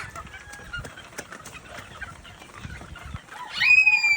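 Chickens cluck softly nearby in scattered bursts, ending with a louder, rising squawk-like call from a hen.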